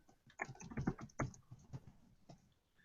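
Keys tapped on a computer keyboard while naming a Google Docs document, a loose run of soft clicks and short bursts, quiet and close, thinning out toward the end.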